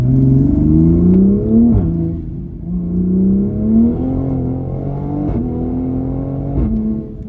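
A Toyota Supra MK5 accelerates hard through the gears, its loud, close engine note climbing steadily in pitch, with a sharp dip at each upshift, repeated across several gears.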